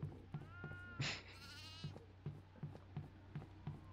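A goat in the horror video game Devour bleats once, a wavering, close and fairly loud cry, over a steady background hum punctuated by soft rhythmic thuds.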